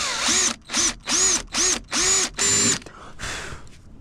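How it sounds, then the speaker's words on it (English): Power drill boring holes into a TRD truck grille for LED foglights: six short, loud bursts of whining motor spin-up and spin-down in quick succession, close by, then a fainter trailing whir. "Get this other one drilled out."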